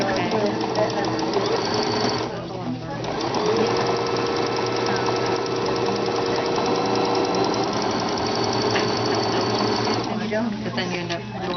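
A sewing machine stitches a mason jar quilt block in a sewing center, running steadily and loudly for the whole stretch with only brief dips, while people talk over it.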